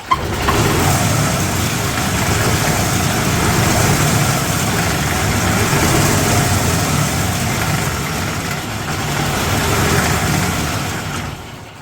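A 2008 Yamaha Drive G29 golf cart engine with a worn clutch runs steadily near and loud, a continuous rough idle with a slight rise and fall in intensity and no talking.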